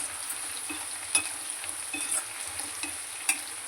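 Chopped green chilies and onions fry in a pan until golden brown, a soft steady sizzle broken by occasional light scrapes and taps of a stirring spoon, fairly quiet and close.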